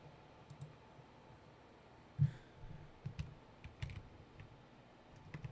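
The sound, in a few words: typing on a computer keyboard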